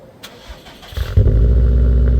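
A 2019 Subaru WRX STI Limited with an aftermarket exhaust starts from cold: faint rustling first, then the starter cranks and the engine catches with a loud flare into a steady, rumbling idle, close by.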